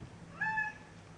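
A domestic cat gives a single short meow, faint and somewhat distant, in an otherwise quiet room during mask-making.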